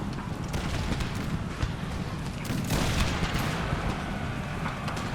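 Musket volleys from massed line infantry in Empire: Total War, a steady, dense crackle of overlapping shots with deep booms rolling underneath, loud and continuous across the battlefield, with no talking.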